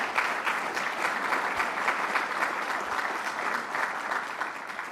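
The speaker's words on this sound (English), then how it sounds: "So let's give him another round of applause." An audience at a Syracuse University event gives a round of applause for the chancellor. The clapping is full, steady and evenly sustained, with no talk over it.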